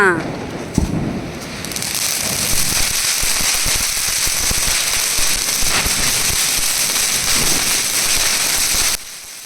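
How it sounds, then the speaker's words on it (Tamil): A popcorn firecracker bursts during Diwali celebrations, giving off a loud, dense, nearby crackle that runs without a break for about nine seconds and then cuts off abruptly. "இது வந்து பார்த்திங்கன்னா பாப்கார்ன் அப்படின்ற ஒரு நேமில் இருந்தது ரொம்ப சூப்பராக இருந்தது ரொம்ப நேரம் நின்று வெடிச்சது"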